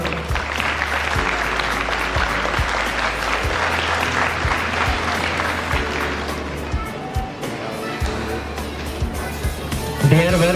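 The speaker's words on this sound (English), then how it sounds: "Round of applause." An audience at a school felicitation and prize ceremony applauds steadily while students hand over a trophy. The clapping is continuous and fairly loud, with a low hum and some murmur in the background.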